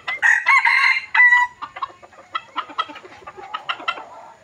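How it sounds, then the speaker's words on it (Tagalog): A rooster in a rural yard crows loud and close, then breaks into a rapid series of clucks and short squawks that gradually trail off. "Ganda ng talak."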